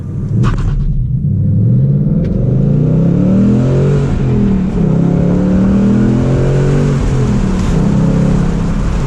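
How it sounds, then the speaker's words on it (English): A manual car's engine revs up and holds high RPM, then climbs through rising pitch sweeps as the clutch is dropped and it launches, a loud, close, continuous roar with no talk. "So I'm gonna just build the RPMs up a little bit."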